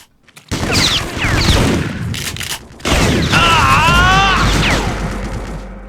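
Dense, loud bursts of gunfire and explosions fill a Vietnam War battle in the game Vietcong, with a screaming voice rising above the chaotic noise.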